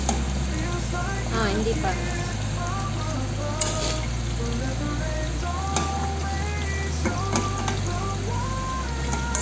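Eggplant frying in a pan during home cooking, a steady crackling sizzle running throughout with occasional clinks of a utensil, while a person speaks briefly over it.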